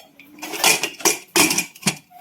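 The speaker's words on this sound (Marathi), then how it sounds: "झाकण लावते." A metal lid goes onto a cooking pot of boiling water, producing several close metallic clanks and scrapes in quick irregular bursts with brief quiet gaps between them.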